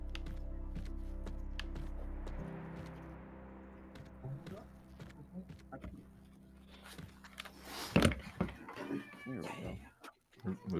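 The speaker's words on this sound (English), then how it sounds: "I hear crashing and a cat howling." A cat howling and meowing in the background of a home during an evening, with crashing noises, a low steady hum and some talk mixed in, loudest burst near the end.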